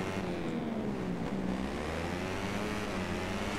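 A motorbike engine in the MotoGP 14 racing game revs and accelerates steadily, a continuous loud buzzing drone with rising pitch throughout, close and alone.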